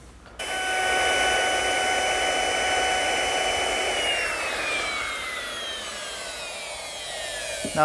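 A power router cutting a decorative chamfer along the edges of wooden coffee table end panels, a loud steady whine that spins up at the start and continues with shifting pitch as the bit runs the wood, no talking.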